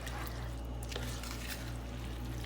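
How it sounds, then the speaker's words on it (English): Liquid drips into a Michigan hot dog meat sauce mixture with a soft, faint, wet pattering. Low steady hum sits underneath and no one speaks. "I'll let it drip over here."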